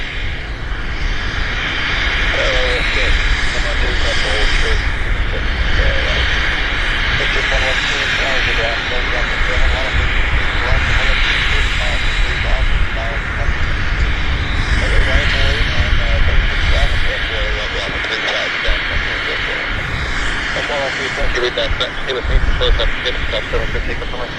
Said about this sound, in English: There it is. That's him, Westjet 112 to Calgary.